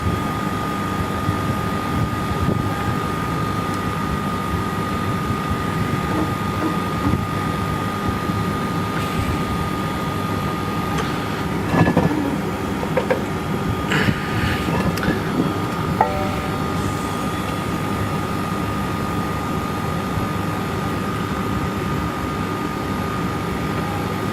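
An R407C air conditioner compressor running on R290 propane refrigerant, humming steadily and loudly with a constant drone and a few brief clanks partway through.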